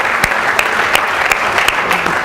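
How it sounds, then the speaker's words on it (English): An audience gives a round of applause at a business school event: a loud, steady wash of many hands clapping, with a few sharper claps standing out. "I would ask you once again to give another round of applause to Mr. Chandrasekhar."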